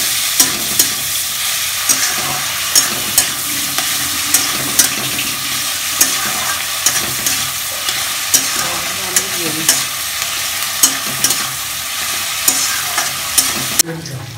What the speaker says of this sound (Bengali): আবার একটু ভালো করে সব কিছু নাড়িয়ে দিচ্ছে তেলের সঙ্গে।